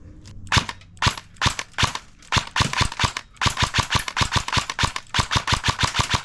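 Rapid shots from a $300 airsoft rifle, sharp snapping cracks fired singly at first and then in fast, even strings, loud and close with no talking.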